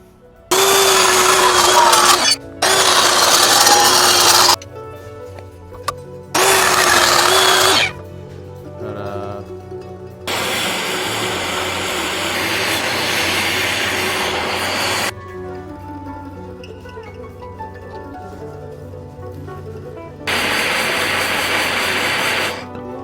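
A power tool cutting a part for a custom motorcycle seat on a rubber-mount Sportster chopper, loud high-pitched whining bursts lasting several seconds each, separated by pauses, with one longer and quieter run near the middle.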